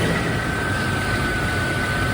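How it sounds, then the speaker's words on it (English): A Rover SD1 engine idles with a steady, even hum and a faint constant whine after a tune-up with new spark plugs and HT leads, heard close and uninterrupted with no voices. "A nice, smooth running engine."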